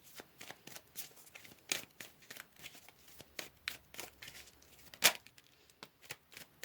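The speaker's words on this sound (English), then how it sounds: "Let's pull some more cards and see what else we have coming out" Tarot cards are pulled and shuffled from a deck, giving a quiet run of soft, brisk papery flicks and snaps close by, with one sharper slap partway through.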